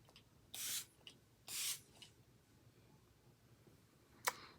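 A setting spray mists onto a face in two short hissing bursts, close and fairly soft, followed by faint clicks and a sharp tap in a quiet room.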